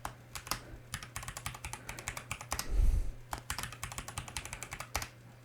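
Rapid typing on a computer keyboard while entering Juniper vSRX configuration commands: dense, uneven clicks of keys close up and fairly quiet, with a brief heavier thump midway, likely a larger key press.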